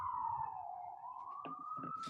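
A distant siren wails steadily in a slow rising and falling tone, faint under light background noise with a few brief knocks near the end.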